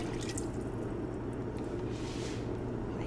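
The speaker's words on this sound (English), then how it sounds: "We're gonna add our broth," Beef stock broth poured into a hot pot on a stovetop, a steady liquid splashing and dripping with a low continuous background hum, close and soft.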